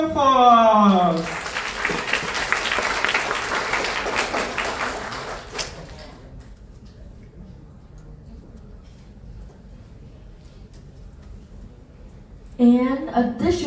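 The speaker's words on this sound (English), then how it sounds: "So can I have another warm round of applause?" Warm applause fills a hall at the closing ceremony of the RMIT Business Analytics Champion competition, a dense burst of clapping that fades out, with a voice speaking before and after it.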